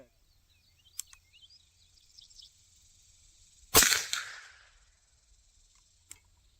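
A single loud rifle shot from a CVA Hunter chambered in .44 Magnum, fired at a target 100 yards off, cracks sharply and rolls away in a short echoing tail, with faint clicks and soft bird calls before and after.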